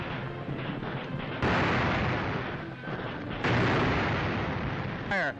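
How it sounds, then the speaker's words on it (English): Japanese guns fire on Shanghai in an archival wartime newsreel, loud heavy blasts thudding in sequence over a continuous rumbling din, with narration running over parts of it. "Japanese guns blast a final rain of fire and steel on Nanteo"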